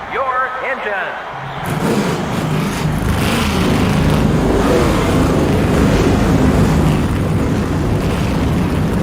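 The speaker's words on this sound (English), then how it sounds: "Start your engines." Race car engines firing up together in the NASCAR Racing 2003 video game: after a short lead-in, a loud, dense engine roar swells and holds steady to the end.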